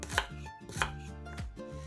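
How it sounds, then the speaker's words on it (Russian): A knife chops medium-sized onions into pieces on a cutting board for a pickled preserve, with three distinct, crisp strikes spaced evenly and heard close up. "2 луковицы среднего размера нарезаем кусочками."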